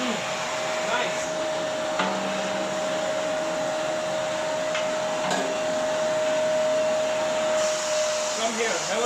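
A bagless vacuum cleaner running steadily while sucking up dust, a loud continuous motor whine with a constant high tone and occasional small knocks throughout.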